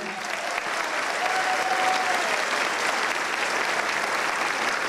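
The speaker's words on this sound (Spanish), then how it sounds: "Pido un fuerte aplauso." A large crowd applauds steadily and loudly, a dense wash of clapping that holds without pause from start to finish.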